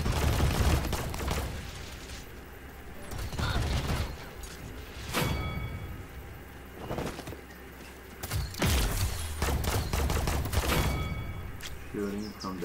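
Gunfire in Paladins on Nintendo Switch comes as several sharp bursts of shots and mechanical clacks, spaced irregularly across the stretch, loud and close over quieter game ambience, with a voice talking in between.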